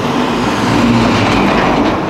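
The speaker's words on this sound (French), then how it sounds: "Un tracteur qui arrive, ça va faire du bruit." A tractor rumbles past close by on a road, a loud, continuous low drone with rattling that swells briefly, with no voices.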